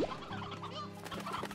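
Chickens cluck inside the Slime Rancher video game, a short run of soft, steady game clucks without any talk.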